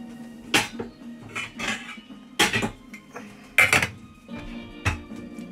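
A spoon beating a beef and polenta mixture in a pot, irregular clanks and scrapes of metal against the pot, close and sharp, separated by short pauses.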